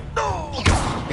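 A Leviosa spell effect from Hogwarts Legacy: a swooping magical whoosh followed by a heavy thud, with game music underneath.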